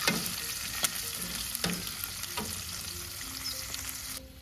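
Oil sizzles and crackles steadily as flour-coated chicken feet fry in a pan, with occasional sharp pops and faint clinks of a utensil.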